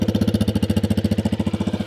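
A 2024 Yamaha XT250 motorcycle engine idles up close near the exhaust, a fast, even chugging pulse of exhaust thumps with no voices.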